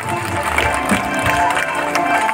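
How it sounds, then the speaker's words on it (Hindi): Loud, sustained clapping from a crowd at a parish's 100-year jubilee celebration, continuous and dense throughout. "चलो भाई बहन मन पुनः हमरे जोरदार ताली दे दवाओ"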